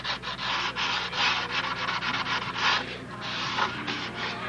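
Steady, rough rubbing of 80-grit sandpaper across a hard fiberglass surface, continuous strokes close up with slight surges in loudness.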